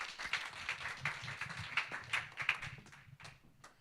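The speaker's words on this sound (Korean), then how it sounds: "멀리 부산에서 온 전미지 양을 큰 박수로 환영해 주세요." Faint, brief clapping from a conference audience welcoming a speaker, scattered claps over a few seconds rather than a full ovation, quiet and somewhat distant.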